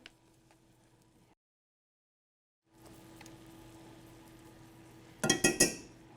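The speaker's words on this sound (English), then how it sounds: "I'm just going to scrape it off of my blender." Apple puree mixed with brown caramel is scraped from a blender jar: a low steady background, then a short burst of sharp clinks and scrapes near the end after a brief silence.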